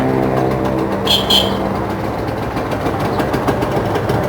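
A round-headlight Honda NSR two-stroke motorcycle with special-order lower end and lighting idles steadily, a continuous low engine drone with a brief brighter burst near the start.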